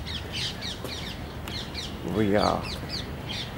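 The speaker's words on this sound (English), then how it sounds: "here are some wonderful birds" Crows caw repeatedly at Sabarmati Ashram, a steady run of harsh calls at moderate distance over outdoor ambience, with a person briefly speaking partway through.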